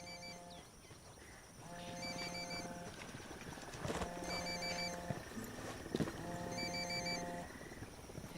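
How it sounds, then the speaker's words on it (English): A cell phone rings repeatedly in the game Ghost Recon Wildlands, its electronic ringtone pattern recurring in regular bursts over a steady ambient background, with a few thumps layered in. "Phone. That's no IED. It's ringing too much."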